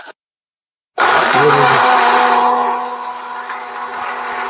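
An electric blender switches on abruptly after a brief silence and whirs loudly and steadily, mixing a chocolate milkshake, its motor pitch settling slightly lower as it runs.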